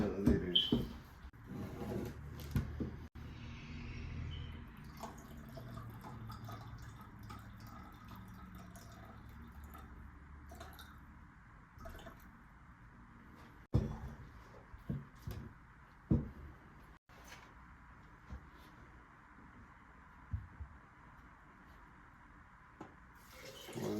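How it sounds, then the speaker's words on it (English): Ethyl acetate is poured to fill a 100 ml measure for a Cielo extraction, giving a soft, steady liquid trickle at close range, broken by a few clunks and handling knocks. "So let's fill up this 100. This is ethyl acetate"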